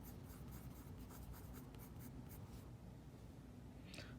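Colored pencil scratches and rubs across paper while a portrait is drawn, quiet close strokes in a fairly even rhythm, with one brighter stroke near the end.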